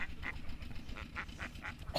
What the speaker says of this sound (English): I've got a duck in there, look, in my neighbour's rice field